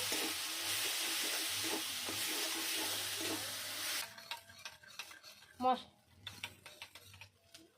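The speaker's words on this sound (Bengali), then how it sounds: "জিরে গুঁড়ো হাফ চামচ ধনে গুঁড়ো দিয়ে আমি ভালো করে মশলাটা কষিয়ে নেব" Ground cumin and coriander masala sautéed in a pan for a doi bhola fish recipe: a loud steady sizzle for about four seconds, then quieter scraping and clinking of a spoon stirring against the pan, close up.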